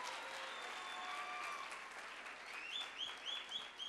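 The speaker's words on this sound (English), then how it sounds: "Let's clap our hands for Jesus Christ." Congregation at a church spiritual birthday celebration clapping their hands together, a steady, fairly soft wash of applause lasting throughout, with faint whistles or voices rising near the end.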